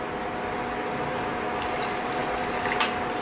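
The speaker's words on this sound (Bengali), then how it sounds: "এবার হিটটা আমি একদম লো করে দিলাম, দিয়ে আমি এবার গুলে রাখা কাস্টার্ডটা দিয়ে দিচ্ছি।" Dissolved custard being poured slowly into a pan of melted sugar over very low heat. A soft, steady liquid trickle sits under a faint stovetop hiss, with a small utensil clink near the end.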